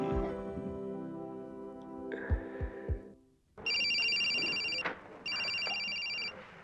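Two long bursts of an electronic telephone ring, a bright warbling tone repeating in steady pulses after a short stretch of background music, loud and close in a home setting.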